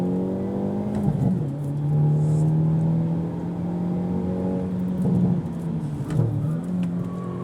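A 2023 Hyundai Elantra N accelerating with wheel spin on a track, its engine tone climbing steadily with short dips at each gear change, loud and close with no talk.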